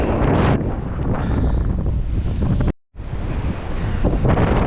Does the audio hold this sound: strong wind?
yes